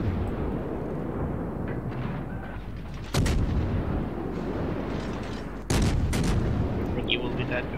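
Naval gunfire in the World of Warships video game, two heavy booming salvos a few seconds apart over a constant low rumble of ship and engine noise.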